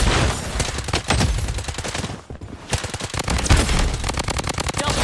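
Rapid automatic fire from a defensive turret in a shooter video game, a dense continuous hammering burst with one brief gap midway, loud and close throughout.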